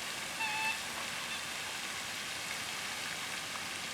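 Light, on-and-off spitting rain at a cotton farm, heard as a soft, even hiss that holds steady and fairly close throughout.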